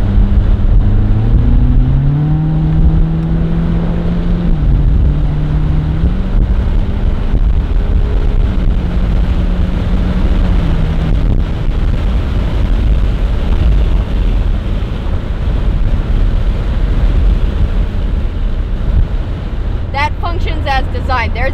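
Engine of a Ferrari California 30 on a test drive, heard from inside the car as a steady loud drone with a rising whine early on, over constant road and wind rush.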